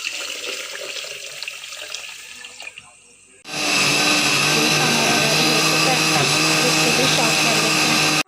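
Kitchen blender blending fresh plums with water for juice, starting after a brief pause with a loud, steady, close whirring roar that holds evenly, preceded by a quieter stretch of running water and handling.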